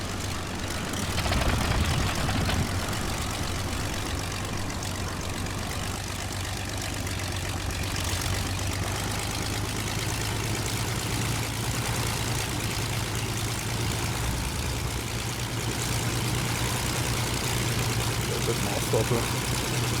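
A WWI biplane engine in the flight game Wings Over Flanders Fields drones steadily and loudly throughout, a low continuous hum that rises slightly as the throttle opens.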